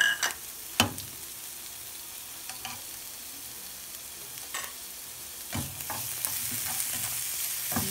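Chopped garlic and onion fry in oil in a pan for corned beef pastil, a steady close sizzle broken by a few sharp scrapes and clacks of a spatula stirring, with no talking.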